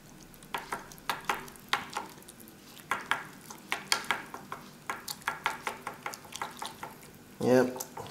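Curry noodles being stirred in a pot make a rhythmic run of clinks and scrapes with a soft sizzle underneath, and a brief louder clatter near the end.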